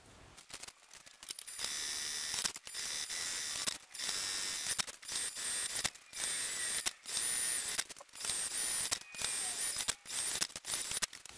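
A sewing machine stitching the sides and bottom of a fabric car caddy runs in steady close bursts of rapid mechanical whirring, stopping and starting about a dozen times, with brief pauses between runs.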